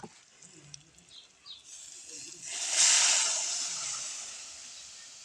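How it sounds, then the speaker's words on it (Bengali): Water is added to fried onions in a pan outdoors in bright sun. After a quiet opening, a sharp hissing sizzle rises partway through, then slowly dies down. "পেঁয়াজগুলো ভাজা হয়ে গেছে। এখানে এখন পানি দিব।"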